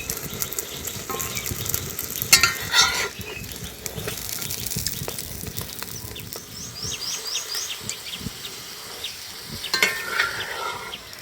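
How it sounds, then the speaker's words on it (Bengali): An egg-filled paratha fries in a pan over low heat with a soft, continuous sizzle, broken by a few sharp scrapes and clicks of a spatula. "একটু অল্প আঁচে এই পরোটাগুলো ভাজতে হবে"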